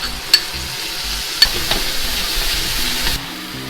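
All-purpose soy sauce sizzles hard in a hot pan with ginger and chili, a steady bright hiss punctuated by two sharp clacks of a utensil against the pan and light stirring.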